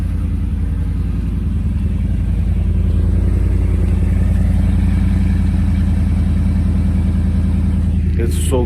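A truck engine warming up on a cold day, a steady low idling rumble that stays loud and close throughout, with a short rustle near the end.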